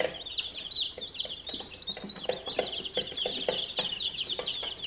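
Small flock of chickens clucking and peeping continuously at close range, with a busy, rapid rhythm of short calls and no talking.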